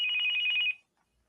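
A single electronic telephone ring, a steady warbling tone lasting under a second, loud and close, then cutting off into near silence.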